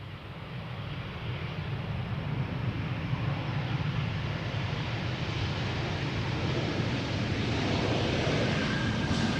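A 17-year-old airliner from 2007 arrives at Amsterdam Schiphol Airport, a broad steady roar of jet engines rising slightly as it approaches, loud and continuous with no voices over it.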